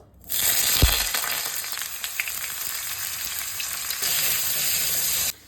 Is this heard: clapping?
no